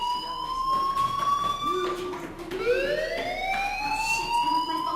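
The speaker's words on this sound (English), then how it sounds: "do you hear that fire alarm? That means you should be outside." A fire alarm in the Life is Strange video game wails loud and steady, its rising and falling electronic tones sweeping up again and again and filling the scene.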